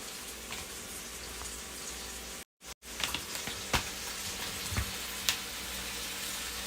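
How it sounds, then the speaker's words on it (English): Ground beef sizzles in a hot pan with a steady, close frying hiss, broken by a few sharp clinks and scrapes, likely from stirring, and one brief moment of silence. "So it's starting to sizzle"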